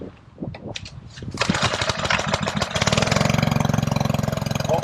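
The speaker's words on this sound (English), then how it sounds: "So the pump fired, passed test number 1." A fire pump engine coughs and sputters through a few irregular firings, then catches and settles into a loud, steady running drone close by, with no talk over it.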